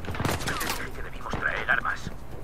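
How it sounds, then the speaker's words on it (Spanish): Gunfire from the video game Uncharted 4 rattles in short, close bursts, mixed with other game sounds and a voice speaking briefly. "¡Me están disparando!"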